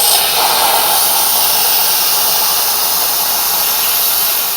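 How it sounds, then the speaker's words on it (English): Steam blasts loudly and steadily out of an Instant Pot pressure cooker's valve during a quick release, a harsh continuous hiss that holds at the same level from start to finish with no voices. "now I'm going to go ahead and do a quick release and let the rest of the steam out of the Instant Pot"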